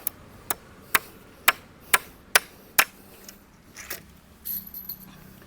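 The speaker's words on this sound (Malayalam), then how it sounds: "ഒരു 3 ആണി വെച്ച് നമുക്ക് അടിച്ചങ്ങ് പോവാം." Nails hammered into wood, six sharp, evenly spaced hammer blows ringing close by, followed by a few softer, irregular taps and knocks.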